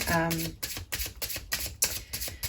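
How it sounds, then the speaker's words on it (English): Tarot cards riffled and shuffled in a steady rhythm of crisp, papery bursts, close up, after a brief voice at the start. "So I'm going to start shuffling."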